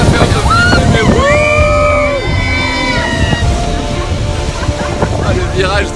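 Motorboat powering upstream against the strong current near Iguazu Falls, a steady loud roar of engine, wind and rushing water throughout, with people talking over it.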